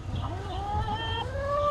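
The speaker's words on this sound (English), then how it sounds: "There's a chicken right there and a chicken right there." Chickens in an enclosure at Disney's Animal Kingdom park give rising, drawn-out clucking calls, moderately close over a low murmur of background noise.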